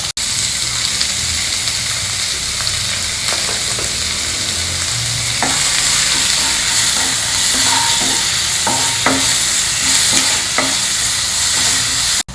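Onions and tomatoes stir-fry in a pan, giving a loud continuous sizzle broken by repeated scraping and clacking of a spoon, with no voices.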